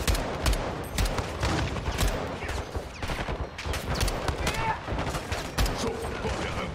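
Dense bursts of automatic gunfire and rapid shots in the video game Call of Duty Modern Warfare 2 campaign, loud and continuous, with someone talking over the shooting.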